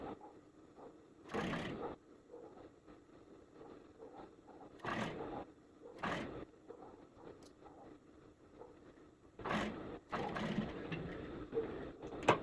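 A sewing machine joining the seams of a sleeveless blazer, running in several short bursts of whirring stitches with quiet pauses between them, near and fairly soft.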